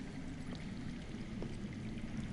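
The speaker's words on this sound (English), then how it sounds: "That's water. I hear water." Underground water flowing in the Game of Thrones Telltale video game, a steady, even rushing wash that holds at a constant moderate level throughout, with no voices over it.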